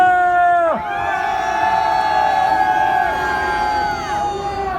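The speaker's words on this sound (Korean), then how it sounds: "힘찬 함성 5초간 발사!" A crowd at an outdoor political rally at Bosingak in Seoul lets out a loud, sustained cheer lasting about five seconds. Shouts and whoops blend into a broad roar, with a voice over a PA briefly audible at the start.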